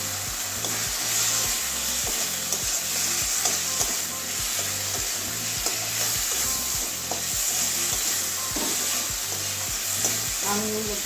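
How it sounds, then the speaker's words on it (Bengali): Mango pieces stir-fried in spice paste for a kachki fish curry: a steady oily sizzle with rhythmic, repeated scraping strokes of a spatula against the pan, close and continuous. "আমটা ভালো করে কষিয়ে নেব"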